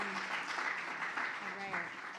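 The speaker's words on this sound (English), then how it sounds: "Round of applause for" Round of applause at a conference skills session on fundraising, a crowd clapping steadily while voices and cheers break through the sound.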